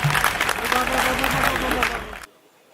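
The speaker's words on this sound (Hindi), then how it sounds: "मेरे निवेदन पर छोटी सी तालियां एक बार और हो जाए" A crowd at a Hindi comic poetry gathering in Kanpur breaks into sustained applause, dense and fairly loud with voices mixed in, before it stops abruptly.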